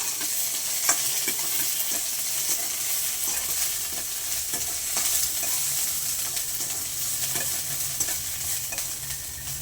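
Onion and dried red chillies sauté in a pan with curry leaves, giving a continuous close sizzle and frying crackle. A spoon scrapes and stirs now and then. Nobody speaks.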